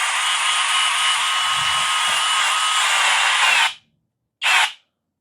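A Hoto cordless drill whirs at a steady high pitch for a few seconds, cuts off, then gives one short burst in pulse mode, loud and close with no talk.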